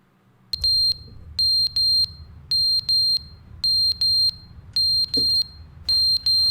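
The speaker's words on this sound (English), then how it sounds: "I don't know where the alarm's coming from." A shrill electronic alarm blares in The Stanley Parable: Ultra Deluxe, sounding as repeated loud double and triple beeping bursts in a steady, insistent rhythm with nobody talking.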